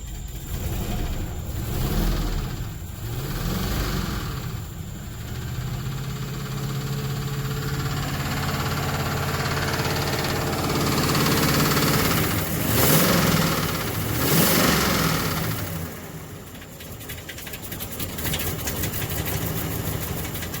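A car engine in poor, smoky condition idles roughly, a loud, continuous, uneven rumble close by with a few slight swells in revs.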